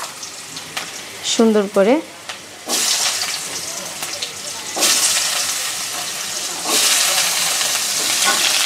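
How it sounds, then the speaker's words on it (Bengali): Potatoes frying in hot oil with panch phoron and cumin, a steady sizzle that swells louder partway through, with someone briefly speaking over the start. "আলুগুলো আগে ভেজে নিচ্ছি"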